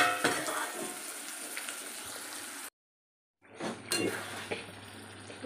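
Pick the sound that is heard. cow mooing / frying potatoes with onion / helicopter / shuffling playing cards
frying potatoes with onion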